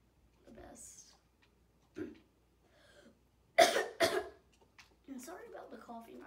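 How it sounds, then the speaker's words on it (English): Several harsh coughs, two loud ones close together in the middle, with quieter breaths and throat sounds around them and no speech. "sorry about the coughing"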